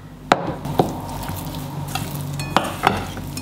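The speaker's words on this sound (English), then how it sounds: "Now I have to mix everything together." Ingredients seasoned with salt and pepper are mixed together in a bowl, with a handful of sharp utensil knocks and clinks over a soft, steady background hiss.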